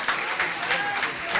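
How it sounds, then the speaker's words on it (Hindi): An audience at a spiritual discourse session applauds together, producing a steady wash of clapping that continues through the whole short stretch with slight swells. "तालियों के गड़गड़ाहट से इनकी भावना का अनुमोदना कीजिए बंधु।"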